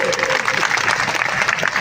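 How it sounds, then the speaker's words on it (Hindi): A crowd at a Rajasthan political gathering of the BAP party claps loudly and densely in a short, continuous burst of applause. "दिलीप भाई के लिए तालियों की कमी नहीं आनी चाहिए"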